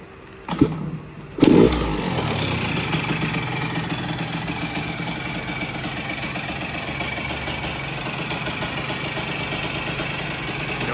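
A 2024 Yamaha YZ65 motorcycle engine runs steadily up close at a constant, even idle for about nine seconds, after a couple of brief knocks at the start, with no talking.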